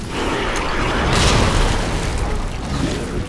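A grenade blast in Resident Evil 2 lands as a loud, close boom that swells and rumbles, then fades into a sustained roar.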